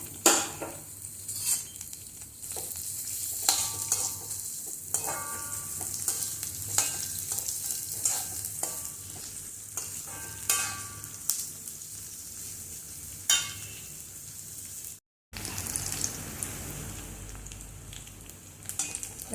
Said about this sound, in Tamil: அதில் இந்த நறுக்கி வச்சுருக்க பச்சை மிளகாய், வெங்காயம், இஞ்சி 3 போட்டு கொஞ்சம் வசக்கணும்